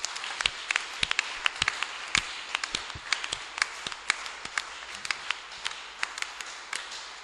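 A church congregation claps in quick, uneven bursts of applause, with sharp individual hand claps scattered throughout at moderate volume and no voices over them.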